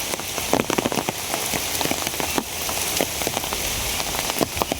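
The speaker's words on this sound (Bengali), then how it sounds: "বৃষ্টি রে বৃষ্টি ভগবান একটু কমাও ভগবান একটু কমাও।" Heavy rain pouring down, a dense, loud hiss with many sharp drops pattering on a hard surface nearby, steady and unbroken with no voices.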